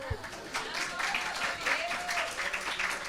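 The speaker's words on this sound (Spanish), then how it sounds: "Un aplauso, aunque no hayáis ganado nada" Audience applause after two children, Mateo and Lucas, are called out in a Spanish talk, a steady moderate patter of many hands filling the clip, with faint background voices mixed in.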